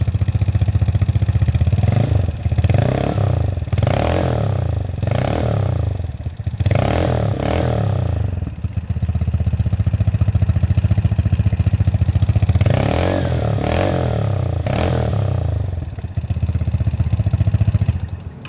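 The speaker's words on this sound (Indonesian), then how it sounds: "Seperti ini bunyi dari knalpot Remus." A Vespa Sprint scooter fitted with a Remus exhaust revs repeatedly, its engine rising and falling in loud, raspy blips from close by, with some clatter and no talk.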